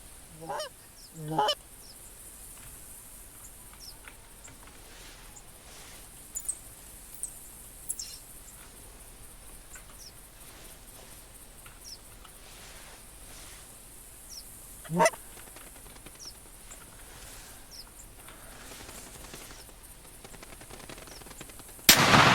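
In the video game theHunter Classic, occasional sharp bursts of gunfire and loud Canada goose honks break a quiet, hissy background, with a few scattered fainter calls in between.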